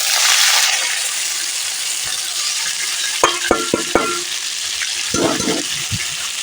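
Potatoes with cumin frying in hot oil for a potato dal, a loud constant sizzle with a spoon clattering against the pan in a few sharp knocks and stirs, no one speaking.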